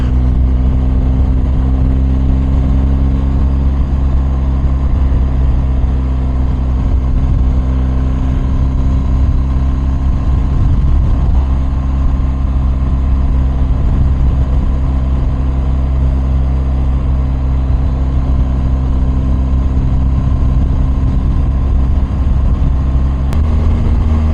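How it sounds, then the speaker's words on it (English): A BMW R1250 motorcycle with an Akrapovic exhaust drones steadily and loudly for the whole stretch, a deep continuous engine rumble with little change in pitch and no voices. "I just love the sound that this Akrapovic exhaust makes"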